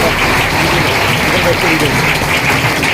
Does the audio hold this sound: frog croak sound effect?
no